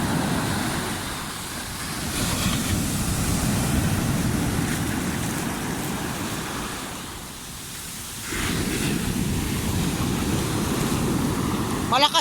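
Strong ocean waves roar in a continuous broadband wash of surf that swells, dips briefly and surges back, heard fairly close and with no clear voices.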